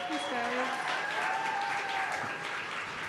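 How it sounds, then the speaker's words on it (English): Small group applause after a short talk in an informal setting, steady clapping throughout with people talking and whooping over it. "round of applause for Maddi, guys"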